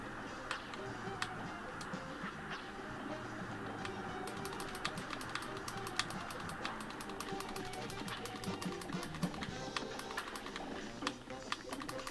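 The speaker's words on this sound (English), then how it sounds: "Just hear me frantically clicking this LB button." Rapid, sharp plastic clicks from a game controller's LB button being pressed frantically, coming in quick bursts that grow denser midway, with talking underneath.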